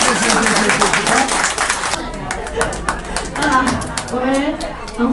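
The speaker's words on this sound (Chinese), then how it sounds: "各位给他掌声好不好？" Audience clapping at a Kuomintang volunteer gathering in Taiwan, a dense burst of applause that is loudest early on and then thins out, with someone speaking over it.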